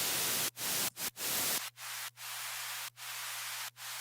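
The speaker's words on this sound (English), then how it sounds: "some white noise, specifically this, will have a lot of hissiness" Steady white noise hiss with its top end rolled off, broken by several brief dropouts; after the first second and a half the hiss thins and a low steady hum runs underneath.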